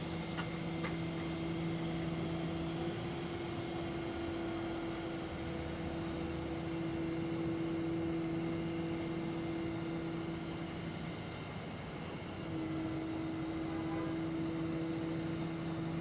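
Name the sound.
roll-off tow truck bed rolling back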